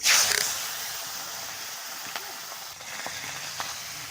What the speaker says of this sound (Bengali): ওই তেলের মধ্যে মাছের মাথাটা ভেজে নেব